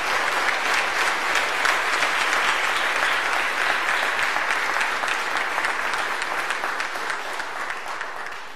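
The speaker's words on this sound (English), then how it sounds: "So let's give him another round of applause." An audience gives a lecture hall ovation to Dr. Eddie S. Glaude Jr., a dense, steady wash of many hands clapping that holds throughout and eases slightly near the end, with no talk over it.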